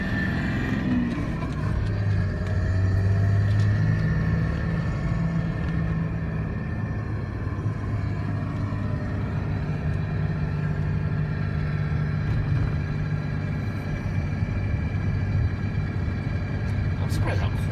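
Inside a 2006 Dodge Ram truck with about 190,000 miles, the engine and road noise form a steady, low droning rumble as it drives along. The sound is fairly quiet and continuous throughout.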